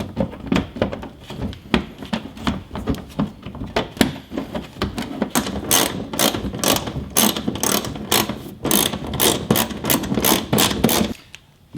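Ratchet clicking in rapid bursts as screws are driven back into a mud guard on a 2021 Ram 1500, the fast pawl ticks close and steady, speeding up into denser strokes toward the end.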